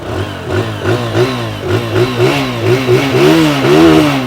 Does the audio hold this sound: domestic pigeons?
no